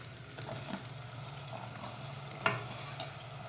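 Vegetables stirred in a pan for masala dal khichdi, a soft, continuous sizzle with light scraping and a couple of sharp clinks of the spoon against the pan.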